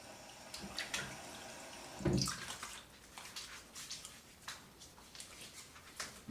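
A bathroom sink tap runs faintly while a razor is rinsed during a wet shave, a soft steady water stream broken by a few splashes and clinks.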